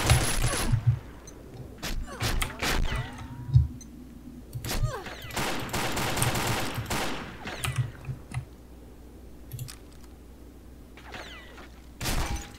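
Bursts of gunfire from the online shooter Combat Arms crackle in rapid clusters with sharp single shots between them, fairly loud and close, separated by quieter gaps and ending in a final burst.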